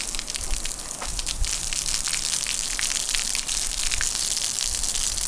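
A steady, loud rush of water splashes and sprays across pavement, washing off spray chalk, continuous hissing with scattered droplet patter throughout.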